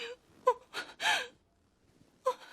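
A distressed character in a film scene struggles for breath through trauma, letting out several short, ragged gasps and panting breaths, close and fairly quiet, with pauses between them.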